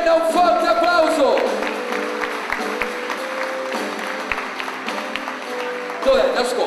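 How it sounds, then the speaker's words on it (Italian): Applause and cheering from a Christmas concert audience rise and settle, with voices talking over it and a background of stage noise. "Voglio un forte applauso per la chitarra acustica, Vincenzo Calaviello."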